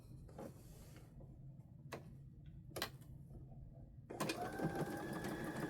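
Domestic sewing machine stitching a quilt block runs in a quiet, even whir, broken by a few sharp clicks and a louder burst near the end.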